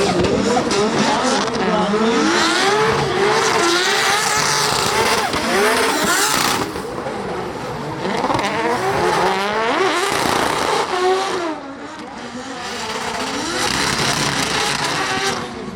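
Drift car engines revving and screaming at an LZ World Tour drifting event, pitch sweeping up and down continuously, loud and close, with a commentator's voice over the roar.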